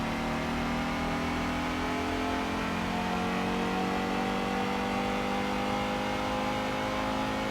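A Fiat Coupe engine in Gran Turismo 2 holds a steady, buzzing mid-range drone with the pitch creeping slightly upward as it accelerates, continuous and close with no talking.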